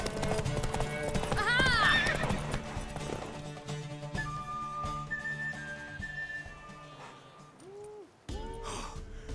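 A horse in the video game Witcher 3 clip-clops and neighs, with a loud whinny early on, hoofbeats and snorts mixed with game music, whistles and a short spoken exchange.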